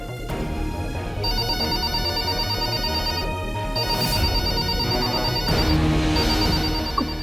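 A telephone rings with a steady electronic ringtone, repeating tonal bursts over a low background hum, fairly loud and continuous.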